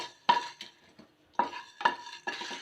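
Cinnamon, cloves and red chillies dry roasting in a pan over medium heat, stirred in a few separate bursts of scraping and clinking of a utensil against the pan, fairly close with quiet gaps between.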